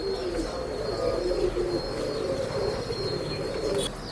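Breeding pigeons cooing in a loft in Bangalore, a steady chorus of low throaty coos with occasional chirps, close and continuous with no talk.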